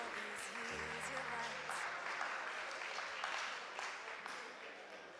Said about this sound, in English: a big applause, ladies and gentlemen,